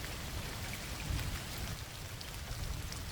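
Steady heavy rain pounding on a cabin roof during a storm, a dense continuous hiss with low rumbling underneath, close and unbroken with no voices.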